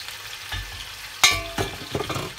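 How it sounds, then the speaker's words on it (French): Chunks of beef for boeuf bourguignon searing in hot oil over a strong flame, a steady crackling sizzle with a few sharper pops and stirring scrapes, close by and without talk. "je vais fabriquer une croûte sur la viande, sur les bords de la viande"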